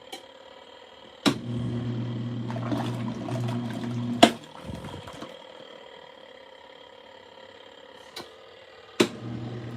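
Water runs and sloshes while a freshly dyed shirt is washed, with a steady low hum and several sharp knocks or splashes punctuating the flow.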